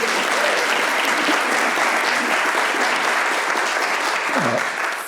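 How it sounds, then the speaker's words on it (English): Applause fills the room at a Maine Climate Council plan release event, a thick, continuous clapping from a large audience that stays even and loud throughout. "We can round of applause"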